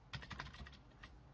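Quick typing on a cheap $10 membrane gaming keyboard, a short run of soft, muted keystrokes heard close with no talking over it.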